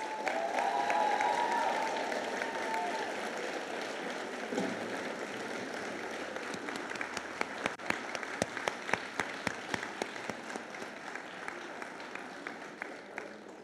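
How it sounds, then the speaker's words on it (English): Audience applause at an 8th grade bridging-over ceremony, a broad sustained wash of clapping from a large crowd that thins toward the end into scattered individual claps. "Give a huge round of applause."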